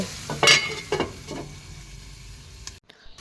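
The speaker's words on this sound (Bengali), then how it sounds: "তরকারিটা ভালো করে নেড়েচেড়ে দিলাম" Spinach vegetable curry being stirred in a pan, with a few soft scraping strokes over a faint sizzle near the start, then a quieter stretch.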